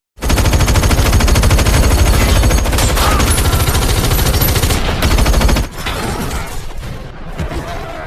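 Loud, sustained bursts of rapid automatic gunfire in an action film shootout with robbers, dense and relentless, easing briefly into a quieter stretch of shots near the end.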